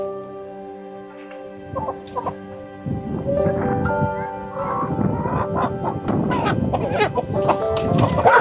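Chickens packed in a container cluck and squawk, starting sparse and quiet, then building into a dense, loud, overlapping clamor of calls and shuffling up close.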